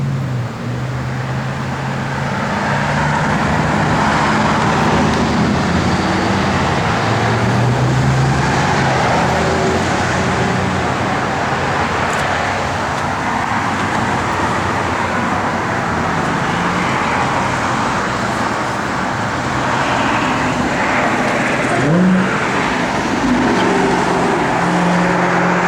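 A 1971 Dodge Challenger R/T drives on the open road, its engine a steady, continuous rumble mixed with tyre and road noise that stays loud and even throughout, with no voices.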